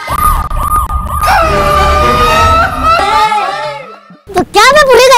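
A police siren wails loudly and close, sweeping up and down in pitch for several seconds, with excited voices talking over and around it near the end.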